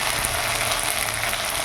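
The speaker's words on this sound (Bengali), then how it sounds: "আদা দেওয়ার পরেই কিন্তু এরকম তেলটা খুব পরিমাণে ছেটায়" Hot oil spatters and sizzles loudly and evenly in a pan right after ginger and garlic paste goes in, a dense, continuous crackling hiss up close.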